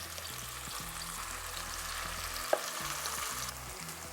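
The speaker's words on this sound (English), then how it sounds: "We keep stirring it constantly because we don't want this getting stuck at the bottom and burn." Paste sautéing over low to medium flame gives a soft continuous sizzle, with rhythmic scraping strokes of constant stirring in the pan and one sharp tap midway.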